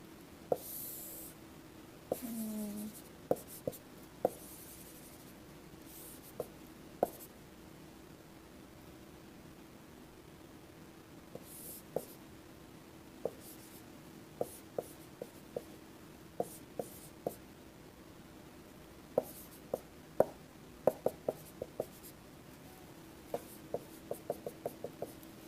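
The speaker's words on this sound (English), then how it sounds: "Let me just draw a diagram first." A diagram is drawn by hand for a physics problem, with scattered faint pen or marker taps and scratches on the writing surface over a steady low room hum, no speech.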